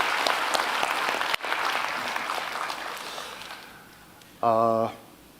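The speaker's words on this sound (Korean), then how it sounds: "우리 한번 감사의 박수를 올려드립니다" A church congregation applauds in thanks, a dense patter of clapping that gradually fades, followed by a short sustained tone near the end.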